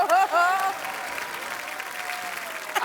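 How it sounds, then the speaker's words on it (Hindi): Studio audience applause at a TV comedy show, a steady, moderately loud burst of clapping that follows a brief spoken voice at the start. "ओए तालियां भी।"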